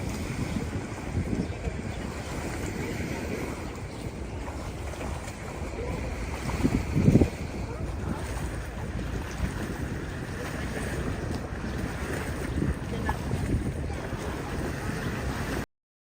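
A ferry crosses from the Devonport terminal to Auckland city, with a steady engine rumble and wind buffeting the microphone over water for the whole stretch, and a brief louder bump midway.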